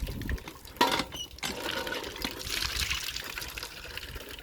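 Water running from a household tap while dishes are being washed, a steady gushing trickle with a brief louder splash early on, at moderate level and fairly close, with no talking.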